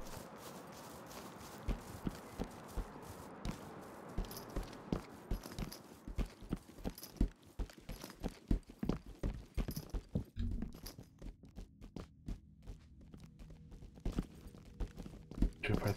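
Footsteps in the tactical shooter Ready or Not sound as a steady run of soft, repeated thuds for the whole stretch, at moderate distance and fairly quiet, with no talk over them.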